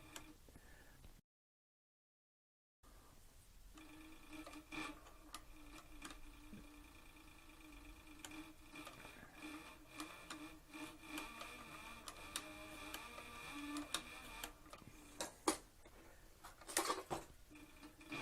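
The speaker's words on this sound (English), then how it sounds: "I'm sewing without a guide." A Cowboy CB4500 heavy triple-feed sewing machine driven by a servo motor stitches a leather flank strap for a Western saddle. Its quiet, steady mechanical ticking runs through the whole stretch after a short silent gap, with no talking.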